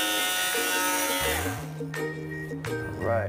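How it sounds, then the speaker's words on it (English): An electric sander with 60-grit paper works over a damaged wooden door, giving a close, steady motor whine and buzz whose pitch shifts and drops partway through as the pad presses into the wood. "can come in with my sander. I'm starting with a 60 grit and I'm gonna finish off with a 120 grit"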